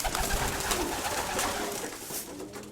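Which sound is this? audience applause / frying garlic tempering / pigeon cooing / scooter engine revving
pigeon cooing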